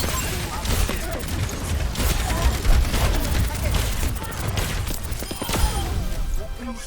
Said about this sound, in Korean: 총소리 달라졌어요